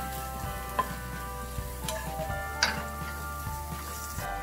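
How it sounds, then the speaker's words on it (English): Garlic fries in a pan with a soft, steady sizzle and a few faint clicks of a utensil against the cookware, nearby and without talk. "Now we added the garlic. Let it cook."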